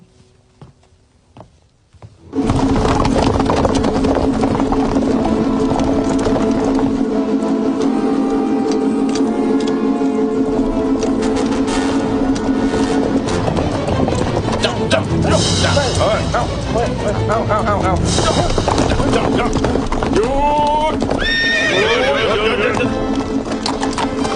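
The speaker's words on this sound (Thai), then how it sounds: "เตรียมม้าให้ข้า" A horse is readied for a hunt in the 2010 Three Kingdoms drama. Steady, close clip-clopping hooves run throughout, with whinnies and busy background sound.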